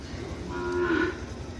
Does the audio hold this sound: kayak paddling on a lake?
no